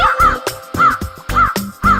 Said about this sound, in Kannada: ಕಾವ್ ಕಾವ್ ಕಾಗೆ ನಿನ್ನ ರೆಕ್ಕೆ ಹೀಗೆ.